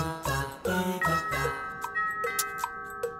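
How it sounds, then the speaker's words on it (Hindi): A doorbell in a home setting chimes in a repeated ding-dong pattern, several sharp ringing tones following one another, with music and voices mixed in at the start. "घंटी बज रही है, देखो कौन है।"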